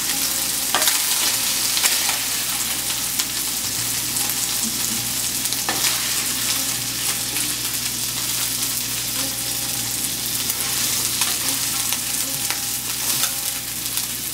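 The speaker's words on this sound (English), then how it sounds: "Fish is now fried." Fish fried in hot oil for a Kajoli fish curry, a loud, dense, continuous sizzle and crackle with small pops throughout, close and without talk.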